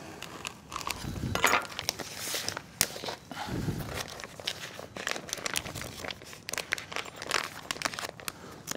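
A knife slices through fresh, chilled veal for vitello in a kitchen, giving scattered close crunching and crinkling cuts in irregular bursts, fairly faint, with no talk.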